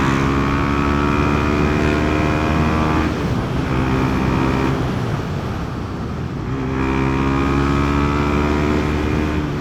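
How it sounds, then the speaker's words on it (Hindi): Steady, throaty exhaust of a Pulsar NS400Z motorcycle fitted with a dB killer, idling and revving, loud and close, with a deep rumble that swells and dips over several seconds. "ये देखो DB किलर के साथ की आवाज़ मुझे ज़्यादा अच्छी लगती है।"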